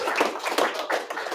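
Audience applause at a poetry show, a steady wash of clapping hands from a live crowd, moderately loud and continuous without a break.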